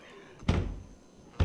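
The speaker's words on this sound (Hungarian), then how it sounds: "üti az ajtót ott fönn." Two heavy door bangs, about a second apart, from a zombie survival video game, each a sharp, close, booming thud that fades quickly into a quiet background.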